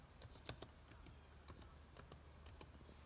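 Quiet keystrokes tapping on a computer keyboard while entering an address into a text box during a Cricut craft design session, irregular clicks spread across a few seconds with no talking.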